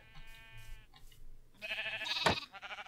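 Sheep bleating in Minecraft, two or three wavering, nasal bleats close by, the last one louder with a sharp thud partway through.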